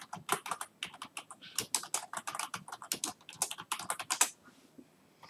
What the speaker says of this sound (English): So I'm going to type up here